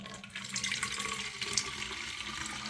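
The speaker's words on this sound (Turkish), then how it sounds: "bu suyumuzu şimdi şişemizin içerisine dökelim" Water poured into a bottle for an orchid plant treatment, a steady, close splashing and gurgling stream that runs without a break and has no talking over it.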